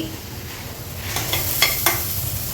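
Spices sautéing in a hot pan, a low steady sizzle with a few brief scraping stirs near the end, close and quiet with no talking.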